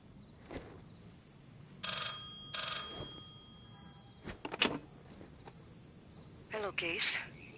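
A telephone rings twice in a phone booth in the Black Ops 6 video game, with short, bright, trilling bursts, followed by spoken dialogue and other clicks and rustles.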